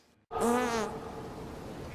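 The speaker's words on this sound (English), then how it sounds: "What's the most heartwarming way to end this all? A fart." A cartoon fart sound effect from an animated film: after a brief near-silence, a sudden loud buzzing, wavering blast that trails off into a lingering hum.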